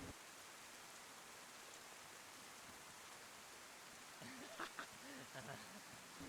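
Steady rain in the DayZ roleplay game, a constant wash of falling water holding evenly throughout, with faint voices and a few short noises breaking in near the end.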